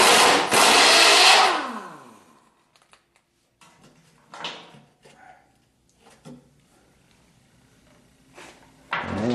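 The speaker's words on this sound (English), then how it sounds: "I'm gonna try to get it off with just the impact wrench." An impact wrench works on a body mount bolt of a 1976 Corvette, giving one loud whirring burst that winds down over about two seconds. Scattered metallic clanks and handling knocks follow, then a short second burst at the end.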